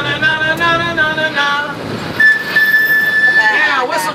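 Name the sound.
whistle of the Key West Conch Train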